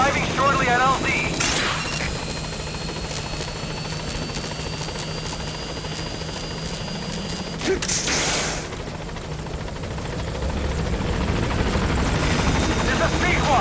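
B-Quad helicopter arriving at a landing zone in Metal Gear Solid V: The Phantom Pain, a steady loud rotor roar with brief mechanical bursts, under radio-style talk.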